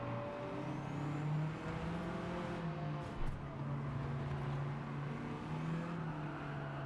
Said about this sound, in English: Listen to it on the overrun.